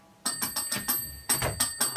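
A small doorbell-like bell rings in quick repeated bursts, two clusters of sharp metallic dings in rapid rhythm, close and clear with no talking.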